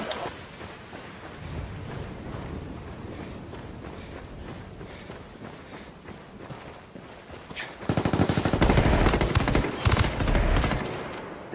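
Gunfire rattles through a video game firefight, a steady low crackle of distant shots that swells into loud, dense automatic bursts in the final few seconds.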